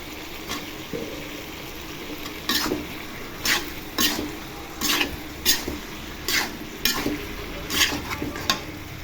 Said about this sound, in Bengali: ধুন্দুল দিয়ে একটু কষিয়ে নিয়ে তারপর ঝোল দিয়ে দিব।